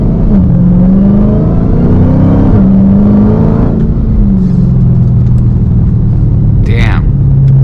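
Dodge Charger SRT Hellcat with a 717 hp engine accelerating on the street, a loud deep roar climbing through gear shifts, then settling to a steady lower drone, heard from close inside the car.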